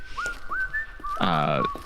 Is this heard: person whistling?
yes